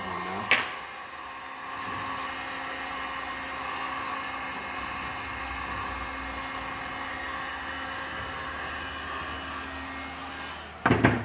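A heat gun shrinking heat-shrink tubing over a hook on a marlin lure double hook set, blowing a steady airy whir for about ten seconds, with a click as it starts and clatter as it shuts off; no talking.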